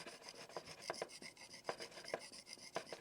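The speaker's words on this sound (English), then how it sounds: "It's a waterstone, and then you just rub it on the waterstone like that" A knife blade is rubbed back and forth on a waterstone for sharpening. Repeated rasping strokes come in an uneven rhythm, close and quiet, with no talk.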